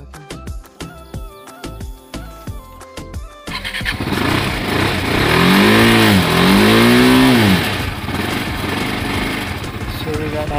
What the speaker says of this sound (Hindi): बाइक हो गई स्टार्ट